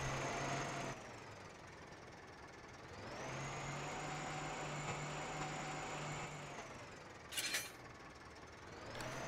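A fertilizer spreader hooks up to a small tractor in Farming Simulator 15, with a steady engine hum that shifts pitch and a short sharp mechanical clatter near the end, all fairly quiet.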